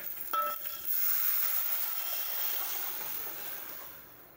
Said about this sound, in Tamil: இப்போ வந்து நம்ம கரைச்சி வச்சிருக்கிற தக்காளி ரசத்தை ஊற்றிக்கலாம்.